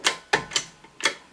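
Hydraulic jack on a Potter USA hydraulic press clicking as it raises the platen: four sharp, separate clicks at an uneven pace, close and dry, with no voices.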